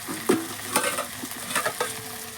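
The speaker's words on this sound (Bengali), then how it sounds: "আমি এই যে মাছ ভাজতে বসে গিয়েছি এটা হচ্ছে মাছের তেল এটা ভেজে নিচ্ছি" Fish head fries in hot oil, a crackling sizzle broken by several sharp spatters and pops at irregular intervals, close and moderately loud.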